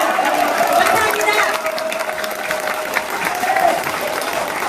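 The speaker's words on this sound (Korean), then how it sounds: "다시 한번 박수 부탁드리겠습니다" People in a large conference room at the National Assembly members' building give a round of applause at a press conference. The clapping is loud and close, with crowd chatter and a voice heard through it.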